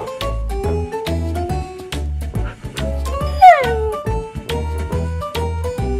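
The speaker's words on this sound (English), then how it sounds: "What the dog doing?" A dog whimpers and yips in a Minecraft meme about a realistic mutant snow golem, its whining cries sliding up and down over a steady, thumping musical beat.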